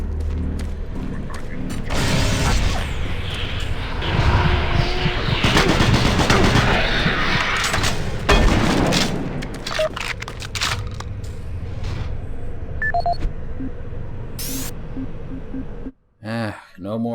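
Sustained assault rifle gunfire in the video game Doom 3 BFG Edition, dense rapid shots and mechanical clatter running almost continuously, with a voice talking over parts of it.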